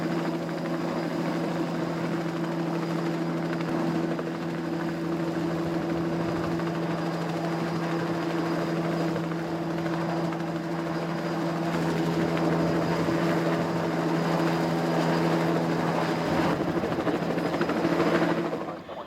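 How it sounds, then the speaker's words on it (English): Helicopter hovering and flying in to hook bags of collected garbage during a rainforest coastal cleanup, a steady droning rotor and engine hum held throughout at moderate distance, swelling slightly toward the end. "time to bring the helicopter in and start hooking the bags out to the barge"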